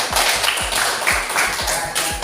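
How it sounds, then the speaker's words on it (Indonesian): Fifth-grade elementary school children clapping hands together in a classroom, a rhythmic patterned clap of about eight regular beats, fairly close and clear with little talk. "Tepuk tangan itu nih Pak."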